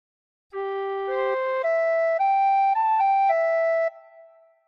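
A tin whistle plays a short phrase of Be Thou My Vision, with several clear sustained notes stepping upward in a smooth line, close and alone, ending with a short fade.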